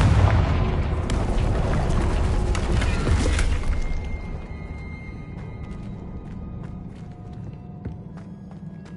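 A Confringo fire spell explodes in the Hogwarts Legacy video game, a loud booming blast with a rumbling roar that fades away after a few seconds.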